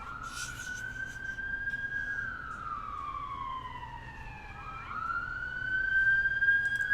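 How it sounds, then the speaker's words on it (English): A wailing siren sweeps slowly up and down in pitch, fairly loud and steady, with faint background noise and no talking. "Okay, obligatory siren."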